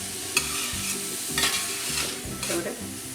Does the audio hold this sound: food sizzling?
yes